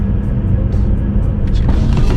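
A Porsche Taycan 4S electric car accelerating hard in launch mode, heard from inside as a loud, steady low rumble of road and motor noise with a rising whine toward the end.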